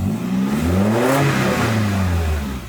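A Nissan 240SX engine is revved close by, its pitch climbing and dipping through a couple of loud, sustained swells with no one talking.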